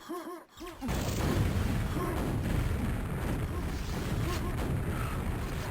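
A rocket explosion in the Quake video game gives a loud, close, sustained boom with a long, rumbling roar that continues without a break after a brief lead-in of game sounds.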